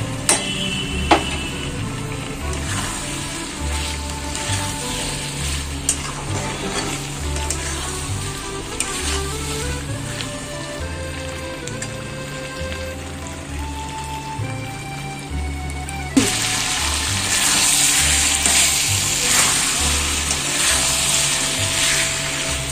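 Soybean curry, a spicy vegetarian dish, sizzles loudly and steadily in a pan while being stir-fried and cooked down, with a steady crackle throughout that grows brighter and more intense toward the end, and no one talks.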